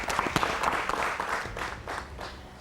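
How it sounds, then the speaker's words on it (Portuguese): Audience applause at a sports and development conference, a brief burst of many hands clapping from a moderately distant crowd, fading slightly toward the end. "Uma salva de palmas ao Edson."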